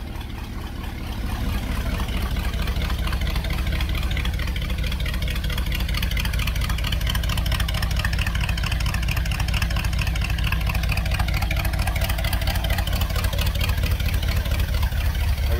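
An old Dodge B200 van's engine idles steadily and loudly during heat cycles, its low rhythmic chug rising slightly after startup and holding even throughout, with no talking.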